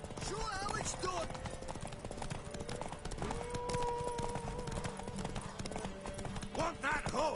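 Horse hooves clip-clopping in the Witcher 3 video game, a rhythmic run of hoofbeats under game music and character voices talking and shouting.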